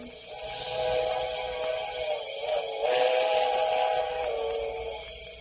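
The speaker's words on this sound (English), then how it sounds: "that was it. The midnight train." A midnight train approaches on a cold night near a bridge, its whistle sounding as sustained, wavering tones over a steady rumble that swells slightly as it nears.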